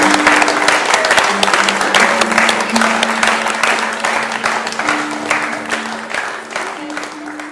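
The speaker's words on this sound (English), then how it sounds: "please give a huge round of applause for the newly married Mr. and Mrs. Conroy." Sustained applause from a large wedding crowd in Sorrento, Italy, greeting the newlyweds, loud and steady throughout, with a few voices and cheers mixed in.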